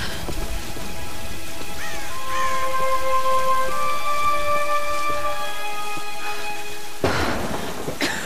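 Steady rain hisses in the background of a Tomb Raider storm while a sustained musical drone and tones play over it, with a brief louder burst near the end.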